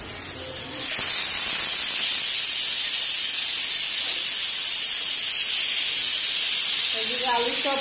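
A pressure cooker boiling potatoes lets out a loud, steady rush of hissing steam that starts abruptly after a second and holds on continuously, with a faint voice briefly under it near the end.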